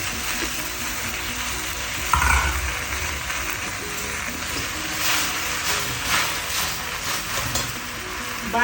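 Gongura sorrel leaves sauteing in a pan for an Andhra-style chutney, a continuous soft sizzle with occasional stirring scrapes and a brief louder clatter partway through.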